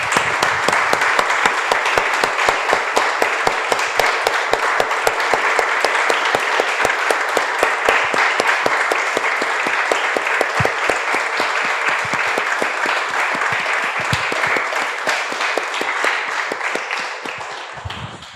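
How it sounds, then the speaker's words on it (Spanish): Congregation applauding at the close of a church prayer, a loud, dense and sustained round of many hands clapping that fills the space and fades slightly at the very end. "Le damos un aplauso, hermanos."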